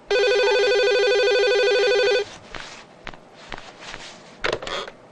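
A telephone rings with a loud, steady electronic trill for about two seconds, then stops, followed by faint handling clicks and rustles in a quiet room.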